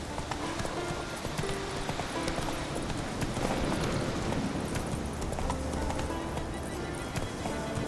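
A ridden horse gallops in The Witcher 3 game with fast continuous hoofbeats and a brief whinny, set against loud game music and ambience.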